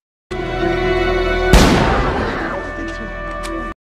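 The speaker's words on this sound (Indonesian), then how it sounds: "setelah melepaskan tembakan ke arah atas" A single pistol shot fired upward in the action film The Equalizer 3 cracks out loudly and abruptly against a steady tonal film score. Its reverberant decay rings on for about two seconds beneath the music.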